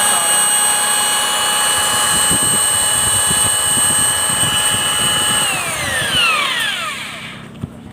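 A loud, steady high-pitched whine of a power drill runs continuously, then winds down with a falling pitch near the end.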